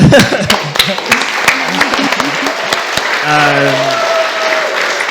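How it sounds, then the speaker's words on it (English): Audience applause at an autumn keynote lecture, a dense wash of clapping with a few louder individual claps nearby, while voices speak and a sustained tone sounds over it in the second half. "Round of applause."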